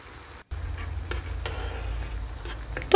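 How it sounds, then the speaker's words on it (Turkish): Tomato sauce with chili flakes simmers in a pot while being stirred now and then, giving a steady low bubbling hiss with a few soft scrapes of the spoon, close and moderately loud, no talking. "Domates suyunu çekene kadar ara sıra da karıştırıyorum."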